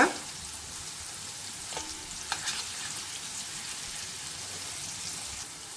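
Paneer pieces fry in a pan with a steady, moderately faint sizzle and occasional soft taps as pieces are flipped one by one.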